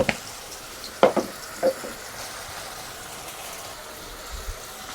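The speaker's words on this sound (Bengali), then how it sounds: "মশলাটা ভালো করে কষিয়ে নিব" Onion with turmeric and chilli powder fries in oil in a pan, a low steady sizzle broken by a few sharp spatula scrapes and knocks near the start.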